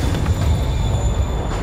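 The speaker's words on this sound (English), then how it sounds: "Train moving. Lee's getting away." A train in the Spider-Man video game rumbles steadily and loudly at Grand Central Terminal, with a dense low roar of rolling rail noise and a faint high squeal running throughout.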